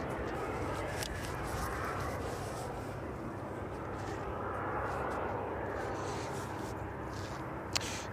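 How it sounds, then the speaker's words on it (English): A DHL Boeing 757 at an airport in the evening, a steady, moderately distant jet engine roar filling the whole clip with a few faint clicks and knocks. "So another regular visitor on the stream, the DHL 757."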